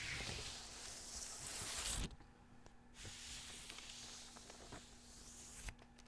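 A vinyl anime record slides against a rice paper inner sleeve and then a plastic inner sleeve, giving soft close hissing scrapes, a longer broad rustle followed by fainter brushing and small clicks.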